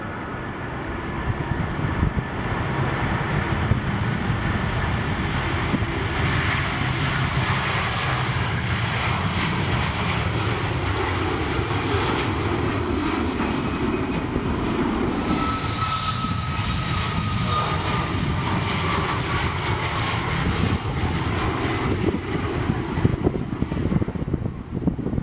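Aircraft engines roar steadily and loudly on the runway at Manchester Airport, a dense continuous rumble lasting the whole stretch, with a rising whine swelling midway and no voices.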